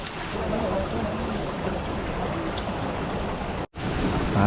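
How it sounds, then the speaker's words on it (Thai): A waterfall pours all around in the middle of a forest stream, producing a dense, loud, continuous rushing roar with a momentary dropout near the end. "ริมน้ำตกแบบนี้ สวยมาก ไม่ใช่ริมน้ำตกดิ กลางน้ำตกเลย"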